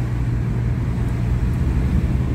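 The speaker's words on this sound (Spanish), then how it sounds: "Ok, patinó la tercera velocidad y hace golpes." A car with an automatic transmission slipping in third gear gives off a steady low engine drone with a rough rumble, heard close and continuous, with no clear separate clunks standing out.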